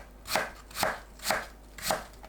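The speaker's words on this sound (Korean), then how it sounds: "사과는 씨 빼고 채 썰어주세요." Four evenly spaced knife chops as an apple is cut into thin strips on a board, close and clear with no talking.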